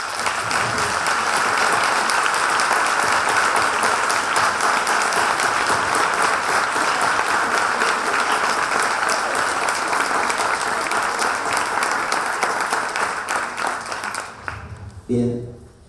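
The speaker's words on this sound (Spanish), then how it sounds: "merecen un fuerte aplauso" Loud, sustained applause from a large crowd, steady for most of the stretch before tapering off near the end.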